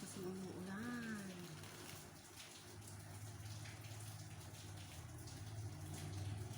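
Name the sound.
rain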